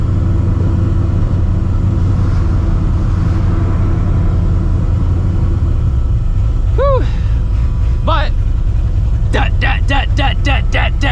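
Supercharged two-valve Ford Mustang GT engine rumbling steadily and loudly through the cabin, a deep continuous drone with a voice breaking in near the end.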